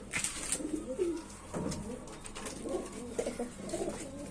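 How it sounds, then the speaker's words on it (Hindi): Pigeons in a coop cooing, soft low repeated coos from several birds close by, with a few brief higher chirps and light rustling in between. "ये अपने वही गर्दान वाले कबूतर है"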